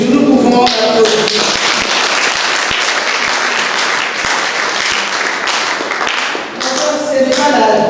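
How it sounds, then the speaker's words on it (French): Loud applause fills the room during a church mass held for a friendship day of Theresian Sisters postulants, steady clapping with a few sharp individual claps standing out and speech at the edges. "nous pouvons applaudir"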